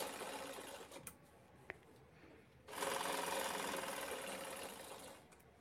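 A sewing machine runs close by, top-stitching a zipper piece for a handbag, with a steady motor whir that pauses briefly, picks up again louder and then fades near the end.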